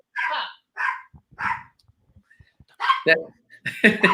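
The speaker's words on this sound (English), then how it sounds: "What kind of dog is it? He's a poodle terrier mix." A 7-pound poodle terrier mix barks in short, high yaps, three evenly spaced and then a few more after a pause, close and loud, with soft sniffing sounds between them.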